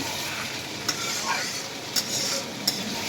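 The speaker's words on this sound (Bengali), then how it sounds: "এটাকে খুব সুন্দরভাবে কষিয়ে নেবেন" Taki fish curry being cooked down and stirred in a pan, a brief steady sizzle broken by a few sharp spoon clinks at irregular intervals.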